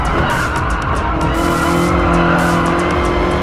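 Race car in Gran Turismo gameplay skidding after contact with a Subaru, loud continuous engine drone with tire squeal over it, steady and close with no talking.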